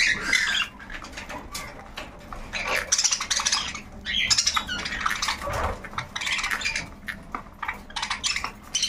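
Albino cockatiels in a home aviary chirp and squawk in a busy overlapping chorus, shrill calls coming in bursts, near and fairly loud, with rustling between the calls.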